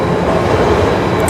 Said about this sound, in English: There goes one of the famous Milan trams.